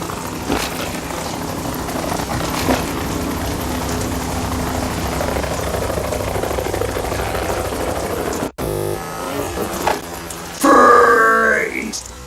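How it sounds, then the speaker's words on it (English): Helicopter in the video game Metal Gear Solid 2 thrums with a steady rotor drone under grunting voices and game dialogue, then cuts to a louder, harsher passage with abrupt effects. "You will be on the helicopter out of here now."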